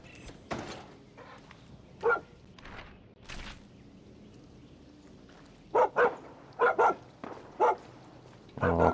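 A dog in the Far Cry 6 video game barks in a series of short, loud woofs, clustered mostly toward the end, mixed with footsteps and scattered thuds from the game.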